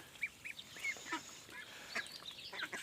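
Faint quacking and honking from a group of domestic ducks and geese on a farm, scattered calls overlapping at a distance.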